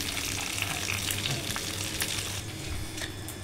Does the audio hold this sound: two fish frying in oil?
yes